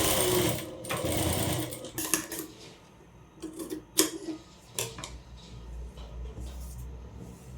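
A sewing machine stitches a one-piece umbrella frock in a rapid, loud burst of mechanical chatter at first, then several short, separate runs of stitching and clicks against quiet pauses.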